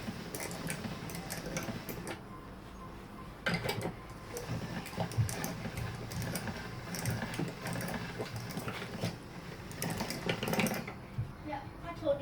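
Hand-cranked pasta machine rolling floured ravioli dough down to 1 mm thickness, giving a steady mechanical clicking and grinding rhythm that runs continuously, fairly close, with kitchen handling noises.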